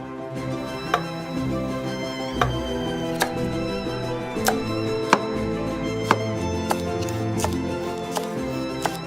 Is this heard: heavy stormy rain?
no